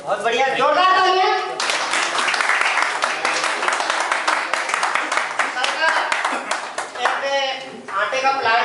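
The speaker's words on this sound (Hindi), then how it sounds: "चलिए बहुत बढ़िया, जोरदार तालियां" A crowd at a Modicare meeting gives a burst of hearty clapping that lasts about five seconds, with someone talking just before and just after it.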